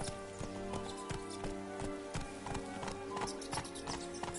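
A horse's hooves clip-clop at a steady trot in the Witcher 3 video game, an even run of crisp, evenly spaced hoofbeats over a constant droning backdrop, with no talk.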